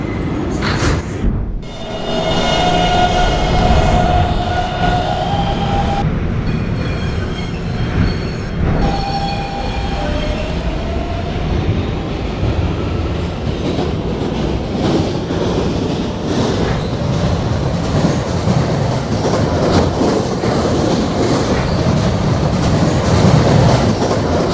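An R152 subway train in Roblox runs steadily along the line, a loud continuous rumble and rail clatter with brief tonal whines early on, heard alone with no talking.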